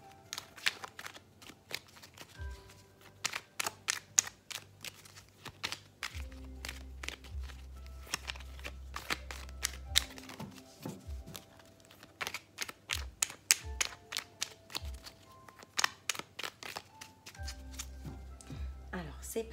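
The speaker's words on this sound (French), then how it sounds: "Alors, je bats les cartes." Oracle cards being shuffled by hand in a quiet room, a long run of crisp riffling snaps and soft taps that come in uneven bursts, with dull thumps from the deck being handled.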